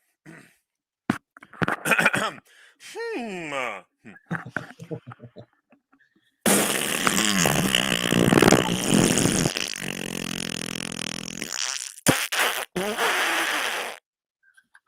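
Fart noises blown with the mouth in a series of short sputtering bursts, then a long loud wet raspberry, followed by another burst, all made by a voice imitating flatulence.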